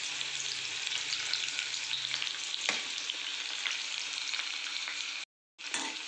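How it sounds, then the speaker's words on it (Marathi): Chopped onion sizzles steadily in hot tempering oil for garlic fenugreek greens, close and continuous with occasional stirring scrapes and a brief dropout near the end. "कांदा थोडासा लालसर होईपर्यंत परतून घेऊ"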